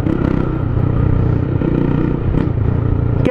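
A motorcycle ridden at steady speed, its engine droning loud and close throughout with a constant low rumble and light rattling, no talk over it.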